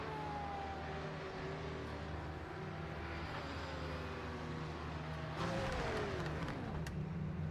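GT500 race car engines in the Project Motor Racing game hum and rev across the field at a race start, with a pitch sweep and a louder surge of several cars near the end.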